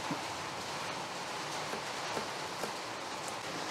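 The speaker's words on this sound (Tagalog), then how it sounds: "Lumalakas-lakas ang ulan." Rain falls steadily and fairly heavily outdoors at a cooking campsite, a dense, even hiss with a few louder drips landing nearby.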